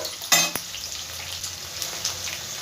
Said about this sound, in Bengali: এবার আমি পেঁয়াজগুলো সব এর মধ্যে দিয়ে দিলাম। পেঁয়াজগুলো একটু ভেজে নেব